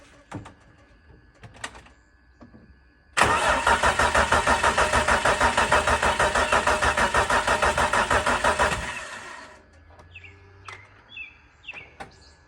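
A BMW S52 engine swapped into a turbocharged E46 cranks over with a loud, rhythmic starter churn for about six seconds without firing, then falls quiet; faint bird chirps and light clatter sit before and after.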